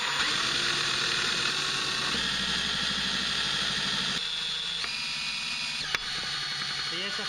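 A Greatwatt small wind turbine spins with a steady mechanical whir and hum, the pitch shifting as it slows under braking, with a sharp click near the end; someone speaks over it.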